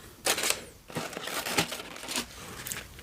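Packing paper is crumpled and pulled out of a box up close, a few quiet, crackly crinkling bursts with no talking.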